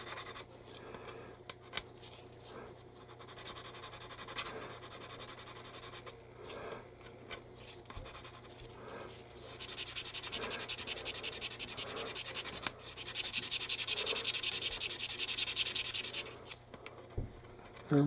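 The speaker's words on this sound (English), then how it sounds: "Just took a little sanding down to get it right." Sanding the edge of an Airfix 1/72 B-17G plastic model aircraft to smooth a poorly fitting raised edge: a steady run of light, close rubbing and scraping strokes with brief pauses between passes.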